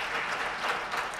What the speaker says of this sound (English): Let's give a big applause to GAC.